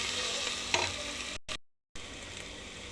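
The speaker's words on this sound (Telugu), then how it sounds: "ఇందులో టమాటా యాడ్ చేసుకుందాం." Chopped tomato drops into a hot pan of frying onion and ginger-garlic paste for a cluster beans curry, giving a steady, close sizzle with stirring scrapes, a brief break in the middle, then renewed frying.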